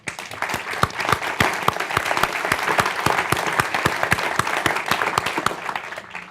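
An evening audience applauds at an event honouring the artist Jim Dine: steady, dense clapping from a large crowd holds at an even level throughout, with individual sharp claps standing out close by.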